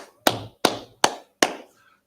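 Four sharp, separate claps spaced roughly evenly across two seconds, each ringing briefly in the room before the next, loud and alone with no talking.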